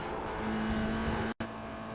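A Toyota GR86 race car pulls hard at full throttle in iRacing at Oulton Park, its engine holding a steady, strained drone that cuts out for an instant at a gear change before resuming.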